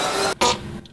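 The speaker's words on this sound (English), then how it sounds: "That's a whoopee cushion. You know what those do?" A whoopee cushion fart noise played inside a Tesla car, a loud buzzy blurt followed by a second shorter raspberry after a brief pause, heard close and alone.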